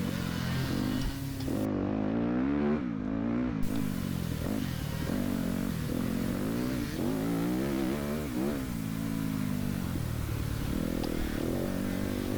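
Dirt bikes racing uphill at a hare scramble, engines revving hard and rising and falling in pitch as riders climb a hillside, loud and continuous throughout with no talking.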